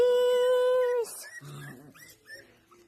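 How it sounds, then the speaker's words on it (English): Several small Coton, Maltese and Maltipoo puppies make a long high whining yelp, then a scatter of short yips, whimpers and a low growl, close by and fairly loud. "Oh, you got all kinds of puppies."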